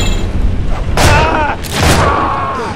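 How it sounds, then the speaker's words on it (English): A wrecking ball crashes in the video game Shank 2, two heavy booming impacts about a second apart, loud and close over game noise. "Jeez, a wrecking ball."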